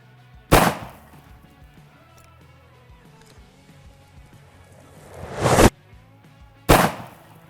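Full-auto gunfire at BulletSafe vests set close together: a sharp, loud burst, a long quiet gap, then two more loud bursts in quick succession near the end.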